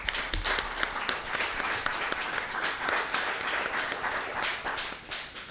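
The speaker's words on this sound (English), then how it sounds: "I think that really does deserve a round of applause" Applause from the audience at a San Gabriel city council meeting, a dense, steady wash of many hands clapping that lasts several seconds at even loudness with no talk over it.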